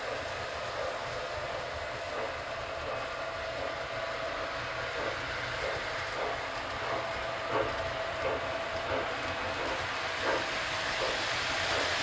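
Model trains run around a layout that includes a pumpkin car, giving a steady, faint mechanical hum with a regular clicking of wheels over rail joints.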